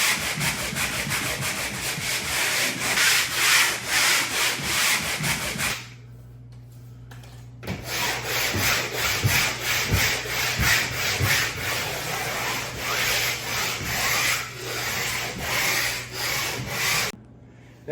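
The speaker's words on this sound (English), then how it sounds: "Now you can see I've sanded the heck out of this wall with this pole sander" A pole sander scrubbing a painted interior wall in steady rhythmic back-and-forth strokes, loud and close, with one brief pause midway and no talking.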